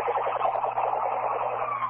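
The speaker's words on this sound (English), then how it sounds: "Sorry about the interruption with the siren." A wailing siren rises and falls steadily, loud and close, with no voices over it.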